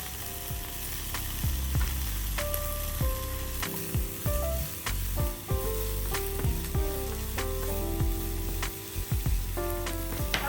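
Onion and tomato fry in a pan for pasta, a loud continuous sizzle broken by frequent clinks and scrapes of a utensil stirring against the pan, heard close up with no talking.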